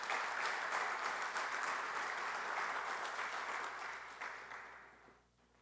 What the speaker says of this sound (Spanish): Vamos a darle un aplauso a Cristo,